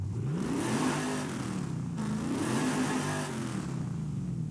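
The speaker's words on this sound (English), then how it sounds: "This is what it sounds like, by the way. This is the stock one." A stock car engine in Forza Horizon 5 revs up twice, each rev rising in pitch and falling back, loud and close with a steady mechanical roar between them.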